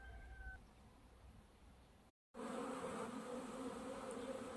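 Bees buzz around flowers in a late-summer vegetable and flower garden, a steady close hum that thickens and grows louder after a brief gap.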